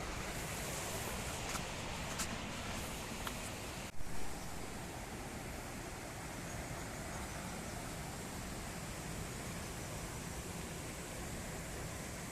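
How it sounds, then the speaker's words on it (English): A waterfall near Upper Kolab road in Koraput sends out a steady broadband roar of rushing water that never lets up, with a brief knock partway through. "I hope you can hear the waterfall sound."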